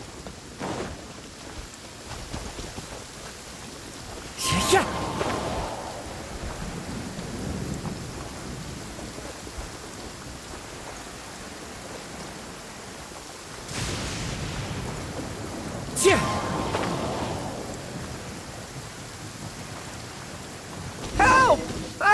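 Rain in the Genshin Impact video game, pouring steadily beneath two loud thunder cracks that roll and fade, with a faint voice speaking briefly near the end.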